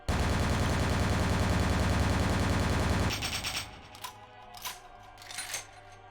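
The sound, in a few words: gun firing in the video game Vampire: The Masquerade - Bloodlines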